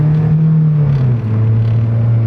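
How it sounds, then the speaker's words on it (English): A car's 2.4 liter engine accelerating under full throttle, a loud, steady low drone whose pitch eases down slightly after a gear change, heard from inside the vehicle. "Listen to that engine."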